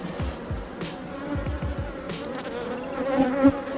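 Bees buzz densely around an open beehive in Jamaica, a close, steady droning hum with individual insects swelling past the listener, and no talking.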